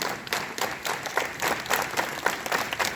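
Students at a school assembly clap in unison, a steady rhythmic series of sharp group claps at a moderate pace, loud and fairly close, continuing without talk.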